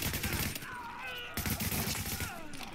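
Rapid bursts of gunfire from The Division in a player-versus-player survival match, a dense crackling volley lasting a few seconds with a voice talking over it.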